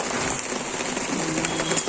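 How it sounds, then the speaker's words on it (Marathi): Rain falls steadily in Pune in the evening, an even close patter and hiss with occasional individual drops standing out, no talking heard. "अगदी पुण्यात खूप छान पाऊस पडतोय."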